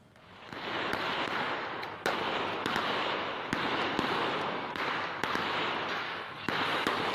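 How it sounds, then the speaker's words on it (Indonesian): Police fire gunshots to disperse a crowd at a nickel company site in Morowali, Indonesia: a series of sharp, separate bangs over a constant rushing outdoor background. "Polisi terpaksa melepaskan tembakan untuk membubarkan sekelompok orang"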